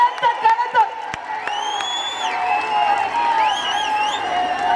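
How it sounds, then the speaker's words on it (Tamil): A crowd at a political rally for Edappadi Palaniswami's speech claps and cheers, with loud, rising whistles over a steady roar of applause and voices close by. "எல்லாம் பலத்த கைத்தட்டு."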